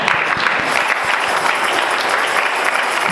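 A church congregation claps and applauds in praise, a dense steady wash of hands filling the room throughout, with no voices standing out above it.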